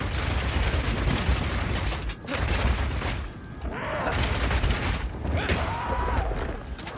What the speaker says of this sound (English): Being able to run while shooting with Rapid Shot is also great for when you want to perform a fighting retreat.